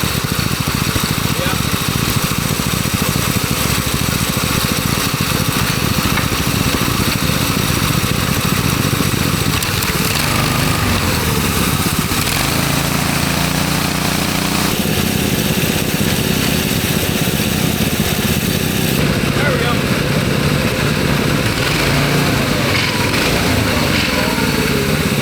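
A three-engine 636cc mini bike roars loudly and close, a dense buzzing drone that shifts in pitch as the engines rev, with people talking over it.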